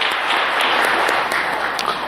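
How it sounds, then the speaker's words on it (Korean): A church congregation applauds during a Sunday service, a dense and steady wash of clapping from many hands that holds evenly throughout. "영광의 박수를 주님께 돌리십시다"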